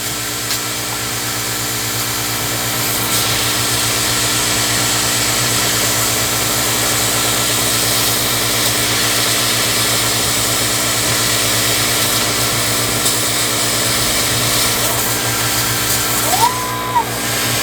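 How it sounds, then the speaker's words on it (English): An xTool laser cutter cuts wood with air assist, giving a steady, loud fan-like whir and hum that holds constant throughout, with a brief rising electronic tone near the end. "And while it's cutting, just wanted to tell you a little more regarding the xTool laser cutter."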